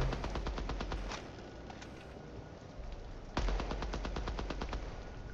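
Rapid automatic gunfire bursts in the Apex Legends firing range, a video game, with sharp repeated shots in quick rhythm and a louder burst near the end.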